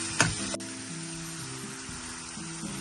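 Garlic, ginger and onion frying in a pan for a meat and okra dish, a steady broadband sizzle opening with a sharp clank of a utensil, then continuing evenly with a faint low hum underneath.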